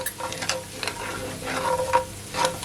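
Garlic sizzles quietly in a hot pot while it is cooked for a smothered chicken and gravy recipe. Soft crackling frying noise mixes with occasional stirring scrapes and clinks.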